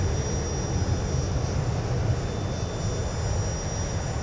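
Jet engines of a Zibo Boeing 737-800 in the X-Plane 11 flight simulator drone steadily during climb, a loud, even roar with a deep rumble throughout and no speech.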